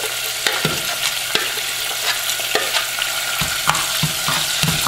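Hot peppers and pimento seeds are stirred through a pan for Haitian baked red snapper, giving a steady close sizzle punctuated by repeated scraping strokes, with no voices.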